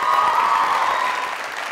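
Studio audience at a comedy talk show claps in a brief, steady burst of applause, fairly close and even throughout.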